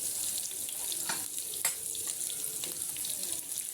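Vegetables and fried fish sizzling in a pan, with a steady bright hiss and a few soft clinks and stirring scrapes, fairly close and without talk.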